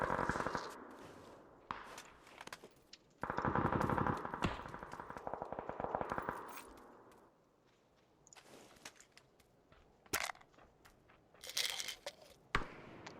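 Gunfire in the PUBG video game, bursts of rapid automatic shots and sharp single cracks from close range, separated by quieter stretches with footstep-like rustling.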